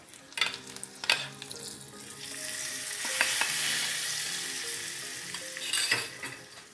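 Tadka tempering sizzles loudly on a dhaba-style garlic fenugreek (lasuni methi) curry, with spoon stirring and clinks early on, then a broad hissing sizzle that swells through the middle and flares again near the end.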